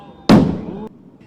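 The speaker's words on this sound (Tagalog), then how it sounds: "Meron ding malalaking paputok na sinindihan sa iba't ibang bahagi ng kalsada" A single large firecracker bursts on a street in Tondo just before New Year, a sudden close, loud bang with a short crackling tail that cuts off after about half a second.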